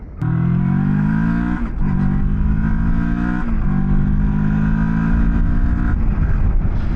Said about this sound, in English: let's start out by riding the Escape 650, get a sense of the acceleration of this bike